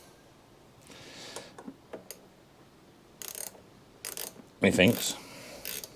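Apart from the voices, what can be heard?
tightening a bowl nut with a tool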